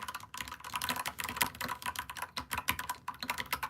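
Rapid typing on a budget mechanical keyboard with a deep, thocky sound, dense clacking keystrokes in a steady uneven stream, close and clear with no voices.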